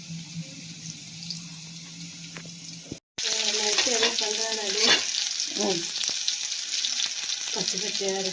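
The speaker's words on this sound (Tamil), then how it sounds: "அந்த அளவுக்கு நம்ம இதை நல்லா வறுத்து எடுத்துக்கணும்" Ridge gourd frying in a pan for chutney makes a low sizzle, then after a brief cut the sizzling gets louder with stirring scrapes, running-water splashes and faint voice-like tones.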